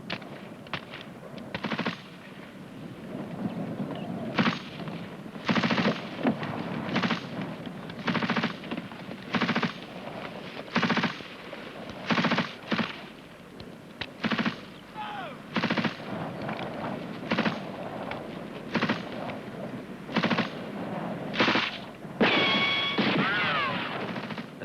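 Machine gun fire during an infantry section fire and manoeuvre drill, repeated bursts of rapid shots at steady intervals over a long stretch, moderately distant, with brief faint voices between.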